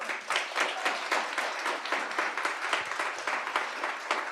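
Steady crowd applause at a celebration event, moderately distant and even in rhythm, with no voices standing out.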